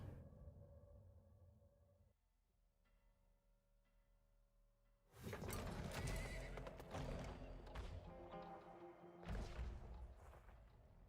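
A horse in the video game Weird West whinnies over quiet ambience, then loud galloping hooves and clattering game sounds take over for the second half.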